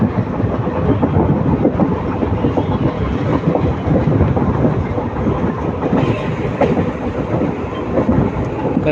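A train runs along a forest railway route in South India, with a steady, loud rumble and rattle of wheels on track that continues throughout without pause.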